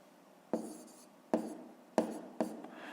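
Pen strokes of numbers being written by hand on paper during a fifth-grade math subtraction exercise: four short, separate scratching bursts, close and quiet, no talking.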